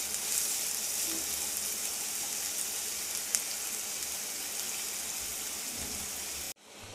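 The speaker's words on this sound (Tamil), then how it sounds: "அந்த வெங்காயம் போட்டு நல்லா வெங்காயம் வதங்கிடணும்" Finely chopped onion sautéing in hot oil for a paneer masala: a dense, even sizzle runs close and steady throughout with faint stirring, then cuts off abruptly at the end.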